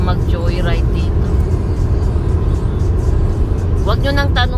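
A Tesla car driving on a road in winter, steady broadband road and motor noise throughout, with people talking over it near the start and end.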